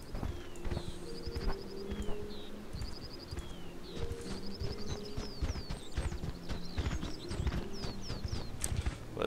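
A donkey's hooves clip-clop steadily at a walking pace in the Mortal Online video game. The steps are close and fairly quiet, with bird chirps scattered over them and no speech.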